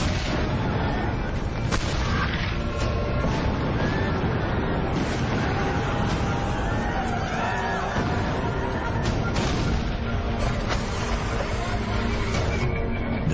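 Continuous roar of more than 20 American Civil War Union cannons and booming blasts at Gettysburg, 1863, dense and loud throughout, with scattered sharp reports over a rumbling battlefield din.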